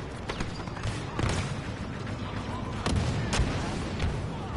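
A grenade goes off in Star Wars Battlefront 2 amid a firefight. Dull, rumbling blasts swell under a scatter of sharp, close gunshots, all loud and busy.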